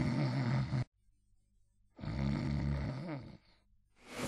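A monster's snoring as a storytelling sound effect, heard as two loud, deep, rumbling snores separated by a near-silent pause, with a third beginning at the end.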